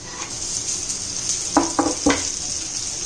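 Tomatoes hit a hot frying pan for a spicy dry egg curry, with a steady background sizzle and a few sharper bursts of crackling as they land, no voices over it.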